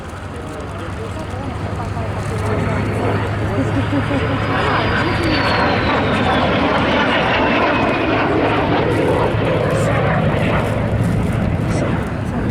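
A de Havilland Vampire Mark 51 jet passes overhead with a loud, steady engine roar that builds over the first seconds and stays strong, with a high whine that sweeps downward as the jet goes by.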